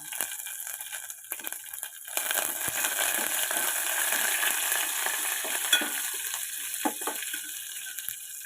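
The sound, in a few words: curry leaves and green chillies frying in a pan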